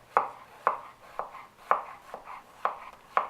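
A knife chops through an onion on a cutting board in slow, regular strokes, about seven crisp thuds spaced roughly half a second apart, close and clear.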